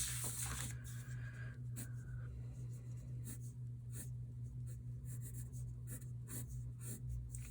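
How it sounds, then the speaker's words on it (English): Pencil drawing a line on paper for a cube sketch, with soft scratchy strokes that sound faint and close over a low steady room hum, with no voice. "Okay, so I'm going to draw this line in."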